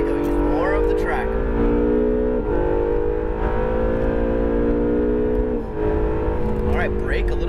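An Acura NSX engine pulls hard on a race track, its steady roar climbing and shifting pitch over several seconds while a coach talks over it.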